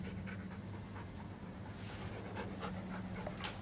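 A dog panting indoors, a quiet, steady rhythm of quick breaths with faint whimpering sounds, heard alone without talk.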